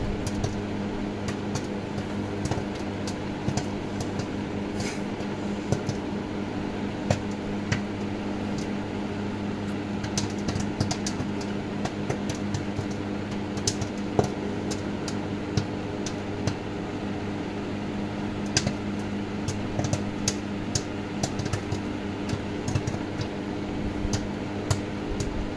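Scattered soft pops crackle irregularly over a steady microwave hum as a tub of butter-flavored microwave popcorn pops inside the running oven.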